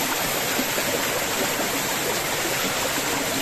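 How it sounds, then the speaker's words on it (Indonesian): A river stream flowing through a forest, a steady, close rushing of water with constant broadband splashing and no pauses. "kita turun ke bawah, kita ngikut aliran sungai ini ya guys"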